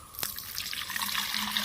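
Water pours steadily into the tank of a farm crop sprayer, a continuous close splashing and trickling that builds slightly over its short length, with no talking.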